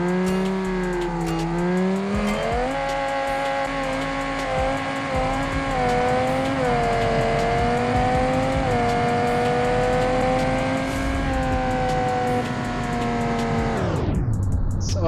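A V10 twin-turbo drag car in BeamNG.drive launches hard with heavy wheel spin. The engine screams loud and close, rising and holding high for several seconds, then cuts off abruptly near the end.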